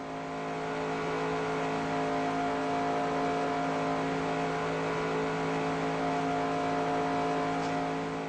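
A race car engine in the NR2003 racing game holds a steady, loud drone at high RPM, continuous and unbroken with no voices over it.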